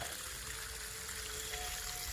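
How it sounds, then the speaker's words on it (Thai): Water from a pump pipe pours steadily into a rice field in the early morning, a faint, continuous rushing trickle with no talking over it. "น้ำไหลลงทุ่งนา"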